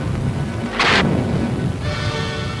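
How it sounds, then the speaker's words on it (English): Sudden sharp blast of a gas explosion in a factory duct fitted with safety vents, a loud boom about a second in, followed by a fading rumble and a fainter hissing release. "This experiment shows how safety vents can reduce the force of an explosion."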